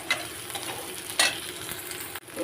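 Whole black cumin seeds frying in hot oil in a home kitchen pan, a steady soft sizzle with crackling bursts and a brief stir scraping through, no talking.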